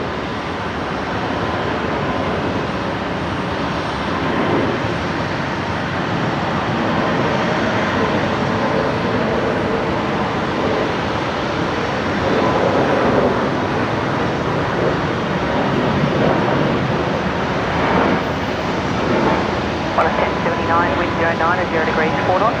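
Air New Zealand jet taking off at night at Brisbane Airport, a long steady engine roar building and holding, with talk over it.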